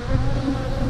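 Bees buzzing around an open beehive, a dense, steady droning hum of many insects close by, heard alone for about a second.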